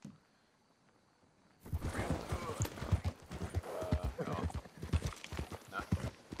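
Horse hooves clip-clopping at a gallop in the video game Red Dead Redemption 2, starting abruptly after a quiet opening and continuing as a steady, close rhythmic pounding with a voice talking over it.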